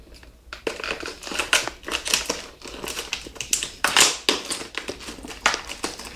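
Scissors cut open the packaging of a webcam during an unboxing, giving a run of close, crackly snips and the crinkle of plastic wrap, with no talking.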